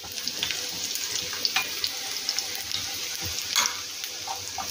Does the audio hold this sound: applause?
no